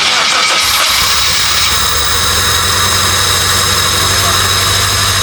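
Swapped engine in a Suzuki Jimny cranks and catches at about one second, then settles into a steady, loud, close idle with a continuous low rumble and no pauses through the rest.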